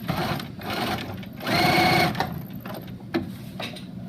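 A sewing machine back stitches fabric with a steady mechanical whirr that comes in several short bursts and pauses, the busiest run in the middle, close and fairly loud with no talking.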